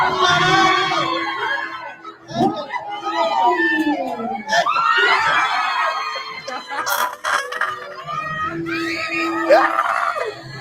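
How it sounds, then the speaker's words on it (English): Shrill screaming and yelping from a crowd of young people, loud and close in repeated bursts, with excited voices talking and shouting throughout. "And listen to the screams."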